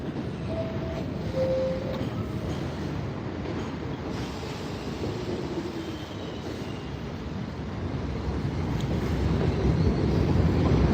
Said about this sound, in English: as soon as I want to show you the other side, another train comes in.